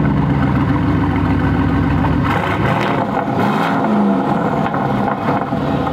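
A car engine turns over and settles into a rough idle, loud and close, with a brief rev before the steady idle continues alone.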